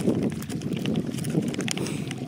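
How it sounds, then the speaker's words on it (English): Wind buffets a microphone with low, rumbling gusts and rustling noise throughout. "As you can tell, it is windy."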